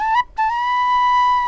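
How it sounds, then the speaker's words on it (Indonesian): Suling bamboo flute with a stereo effect applied plays a sustained, pure whistling tone with a short break near the start, then holds one steady note, loud and alone. "ini kan suling, ketika sudah diberi efek jadi stereo itu"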